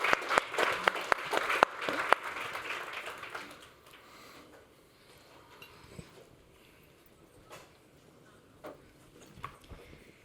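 Applause from a summit audience for a panel on digital agriculture technology, a few seconds of dense clapping fading into scattered isolated claps and room noise.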